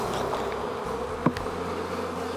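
Honeybees hum steadily around a hive frame being shaken during a hive inspection, a dense continuous buzz with a brief sharp knock partway through.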